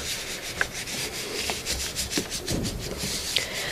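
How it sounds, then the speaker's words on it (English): A hand rubs paper steadily over an inked collagraph plate, producing a continuous close, dry scrubbing sound with slight rhythmic pulses and a few faint tapping ticks, with no voices. "hold it down with one hand and rub with the other hand"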